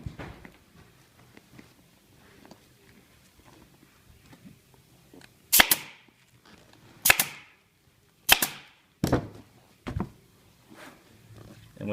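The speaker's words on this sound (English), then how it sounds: "at the end of the seams, staple over the seams, helps keep them from unraveling if you're yanking or tugging on them" Staple gun stapling over the ends of seat cover seams during a seat install for a Tiger 800 Tall motorcycle, five sharp separate snaps spaced a second or so apart, close and loud over quiet handling noise.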